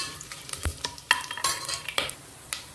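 Whole spices, cinnamon, cloves, star anise, cardamom and a bay leaf, crackle in hot oil in a pressure cooker as a spoon stirs them, giving sharp scrapes and clicks over a faint sizzle.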